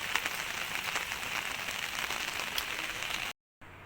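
Heavy rain pours steadily in Agra, a dense, even patter close by that cuts off abruptly near the end before resuming briefly.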